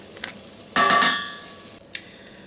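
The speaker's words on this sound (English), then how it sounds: "I'm going to throw my butter in." Butter dropped into a hot pan for clams alfredo sauce gives a sudden burst of sizzling that fades over a second, with a few small clinks before and after.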